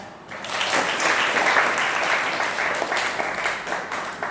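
A classroom of students applauds during an engineering drawing lesson, a dense burst of many hands clapping that swells quickly and holds steady before thinning slightly toward the end.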